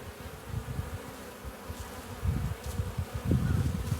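A close swarm of hardy Saskatoon honeybees drones over a phone, the buzzing swelling in uneven pulses and growing louder toward the end, with no talk.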